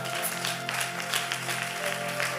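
A church congregation claps and cheers in praise, a dense steady wash of applause with scattered shouts, moderately loud and sustained over a held background tone.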